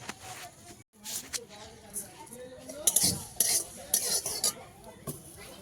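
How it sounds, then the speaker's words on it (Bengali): Dry red chillies and cumin fry in a hot pan, with a spatula clinking and scraping against the metal in bursts while a person talks. "মশলাগুলো ভেজে নেব সুন্দর করে"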